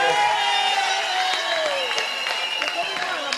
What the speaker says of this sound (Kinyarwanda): dukomere Imana amashyi kubw'abacuranga